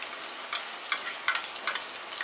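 Finely chopped coriander stems frying in a pan over high heat, a continuous bright sizzle with a few sharper crackles spaced through it, close and alone.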